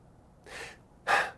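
A person imitates short, stressed breathing: two quick, breathy puffs close to the mic, the second louder and sharper than the first, with quiet pauses around them.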